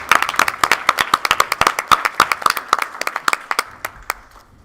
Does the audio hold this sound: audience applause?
yes